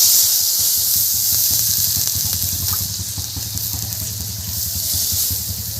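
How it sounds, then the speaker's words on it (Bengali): Water poured into a hot pan of frying piring greens sets off a loud, continuous hiss and sizzle with a bubbling rumble underneath, heard alone at close range. "পিড়িং শাক এবার আমি জল দিয়ে দিচ্ছি।"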